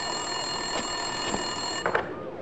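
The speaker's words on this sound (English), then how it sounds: "Winterson's phone was ringing." A telephone rings in Max Payne 2, an electronic trilling ring heard over steady background hum and faint repeated clicks in a police station office.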